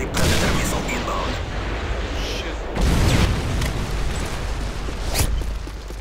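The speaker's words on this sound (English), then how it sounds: "Friendly Predator missile inbound." A Predator missile explodes in Modern Warfare 3, heavy booming blasts and dense rumbling battle noise, with a strong impact near the middle and sharp bursts over continuous loud roar.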